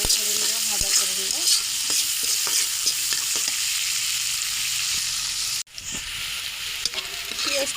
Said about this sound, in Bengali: এই তেলের মধ্যে আমি পেঁয়াজটা এখন ভেজে নেব